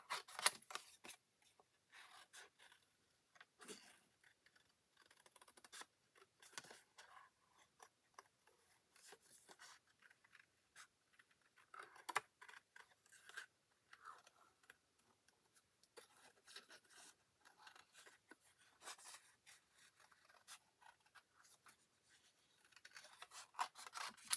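Scissors snip out a scrapbook paper piece in soft, faint, irregular cuts with small rustles of paper between them, close by and with no talking.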